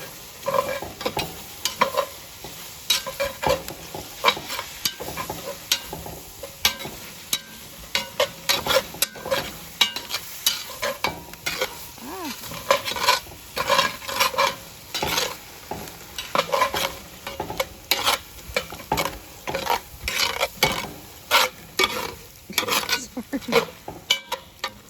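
A sauce for chicken à la king being whisked slowly in a Dutch oven on a Solo Stove outdoors, with a rapid, steady metallic clicking and scraping of the whisk against the pot, plus a faint simmer and brief talk.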